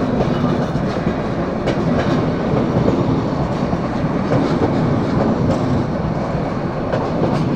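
The Burimari Express passenger train passing through Joydebpur station without stopping, a loud, steady, close rumble of wheels on rails with faint clickety-clack throughout.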